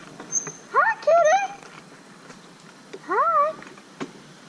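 A cat meows close by, giving two drawn-out meows near the start and another a couple of seconds later, against a quiet outdoor background with a few soft clicks.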